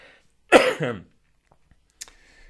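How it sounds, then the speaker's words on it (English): A single harsh cough, close and loud, followed by quiet and a small throat noise. "You can think about that while I cough"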